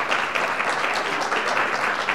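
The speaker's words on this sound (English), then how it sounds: "Another round of applause for all of our panelists who were fabulous." Dense, steady applause from an audience at a public panel discussion on news and archives, a continuous wash of many hands clapping close and loud throughout.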